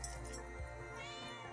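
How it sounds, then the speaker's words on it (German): A stray cat meows in the video game Shikiyoku: one soft, drawn-out meow over a constant layer of background music. "Das ist ein Rumstreuner, ein Streuner. Streune Katze."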